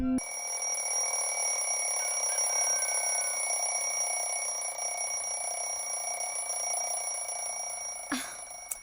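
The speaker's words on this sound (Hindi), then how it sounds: "अलार्म बज रहा है, उठिए ना" An alarm clock rings in a bedroom in the morning, a steady, continuous electronic ringing that carries on for several seconds before a brief knock near the end.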